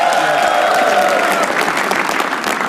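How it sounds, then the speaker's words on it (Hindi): A live stand-up comedy crowd claps loudly and close for a comedian, the dense applause running steadily before easing slightly toward the end. "ओनकार के लिए ताली बजाओ एक बार सब लोग"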